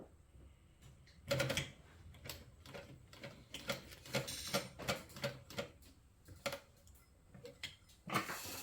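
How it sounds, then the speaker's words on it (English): A sewing machine stitches fabric about 1/8 inch from the edge while making a notepad holder, giving short quiet bursts of rapid mechanical clicking with brief pauses between runs. "And I am just sewing about 1/8 of an inch from the edge."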